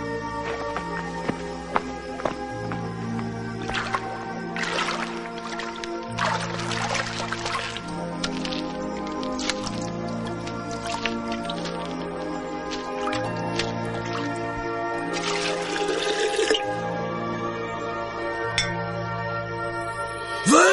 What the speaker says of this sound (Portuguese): Enchei de água essas talhas.